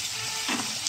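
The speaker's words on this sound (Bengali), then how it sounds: "দিয়ে আলুটা ভাজবো।" Potatoes frying in oil in a wok make a steady, close crackling sizzle with stirring scrapes throughout, swelling briefly near the end.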